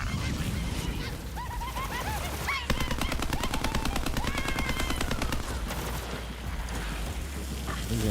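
Rapid automatic gunfire from a weapon in Borderlands 3, a dense continuous burst of shots dominating the middle of the clip, mixed with chirping game effects and background ambience.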